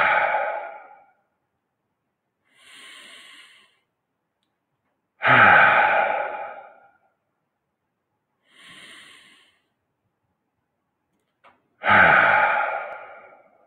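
Three slow, deep breaths in a guided meditation, each a loud, breathy inhale-exhale burst with softer gaps between them, close and alone with no talk.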